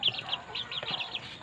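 Chickens cluck in a rooftop chicken run whose floor is partly covered with burnt rice hull, giving a string of short, fairly close calls with no talking.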